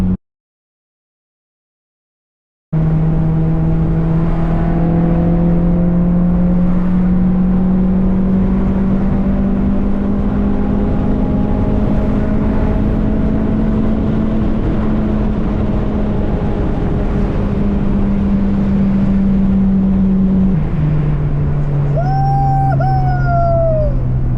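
A Honda Civic Si with a Hondata-tuned K20 engine pulls hard in fifth gear, its steady engine note climbing gradually for nearly twenty seconds before dropping abruptly as the revs fall, loud and close with no talking.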